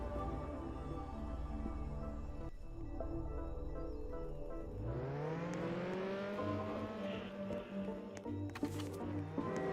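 A car engine drones steadily, then revs up sharply and accelerates with a rising whine, followed by a brief squeal, all in a synthetic game-like mix.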